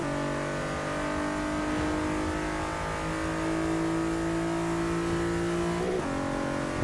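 A 2012 Nissan GT-R in the Forza 6 racing game pulls hard under steady acceleration, its loud engine droning at a sustained high pitch before a brief gear-shift dip near the end, with no talking.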